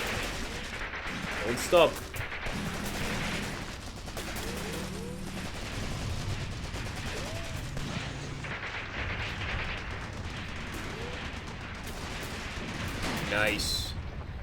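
A .50 cal machine gun fires in Graviteam Tactics amid distant battle booms and bursts, while a voice speaks briefly.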